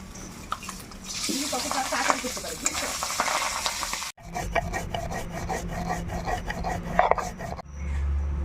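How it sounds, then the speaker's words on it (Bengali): A fish head fries in oil in a wok, giving a continuous crackling sizzle with scraping and stirring textures and a brief drop partway through. "মাছের মাথা ভেজে নিব, তেল দিয়ে দিলাম কড়াইতে।"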